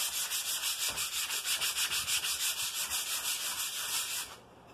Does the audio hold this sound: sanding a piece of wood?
yes